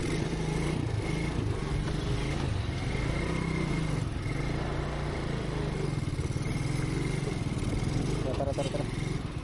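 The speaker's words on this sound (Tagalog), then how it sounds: "Ayun lang umandar yung motor natin." A motorcycle engine runs with a steady, continuous drone throughout, heard up close on a Palawan ride toward Nagtabon.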